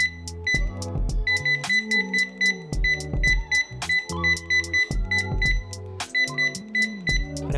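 An IDA 32W1 Bluetooth 2D barcode scanner beeping loudly and close as it reads barcodes and QR codes, with bursts of sharp repeated beeps separated by low clicks and handling thuds.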